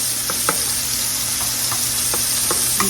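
Mushrooms fry and brown in a pan with garlic, giving a loud, steady sizzle throughout with a handful of soft stirring clicks and no speech.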